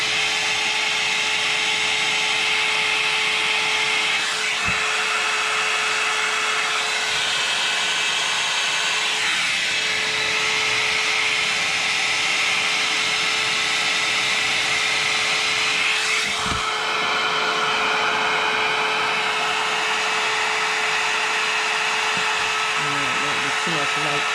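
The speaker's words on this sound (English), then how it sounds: "you're going to turn on your handy dandy heat gun" A handheld heat gun blows hot air onto a tissue-paper-decorated candle, giving a steady, loud whooshing hiss with a constant whine that runs throughout, with a few faint knocks.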